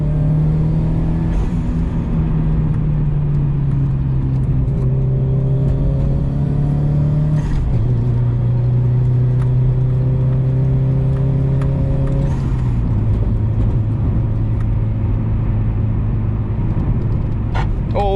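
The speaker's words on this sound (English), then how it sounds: "I'm just going a bit faster around the corner" A Subaru Impreza WRX STi Ver.9 driven briskly through corners, its engine droning loud and close inside the cabin with a steady hum that shifts pitch at gear changes around 7 and 13 seconds.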